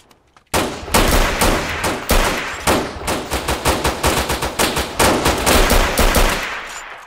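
Rapid automatic gunfire from a video game gun, a loud, close, sustained burst of dense shots in quick succession that runs almost the whole time after a brief quiet start.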